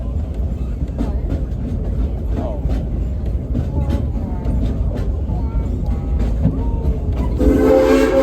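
A Silver Dollar City excursion train rumbles and clanks steadily in the Ozarks while people talk over it. A loud, sustained whistle blast comes in near the end.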